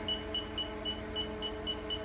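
A wire tracer tool gives a high electronic beep, repeating in short, regular pulses, about four per second, over a faint steady hum.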